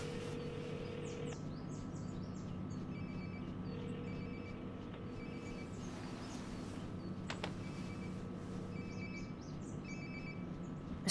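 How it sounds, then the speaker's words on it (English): A phone rings nearby in the video game Life is Strange Before the Storm, repeated electronic ringtone bursts over a steady ambient hum, with faint chirps alongside. "Sounds like my phone is definitely nearby."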